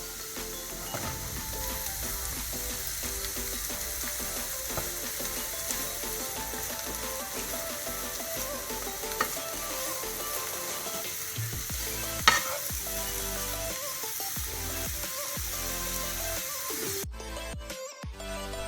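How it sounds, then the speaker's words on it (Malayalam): Mushrooms and garlic frying in a pan, a steady crackling sizzle with scraping and stirring clatter throughout, one sharp knock midway and an abrupt cut near the end; no speech. "ഇനി നമുക്ക് മഷ്റൂം ഇടാം."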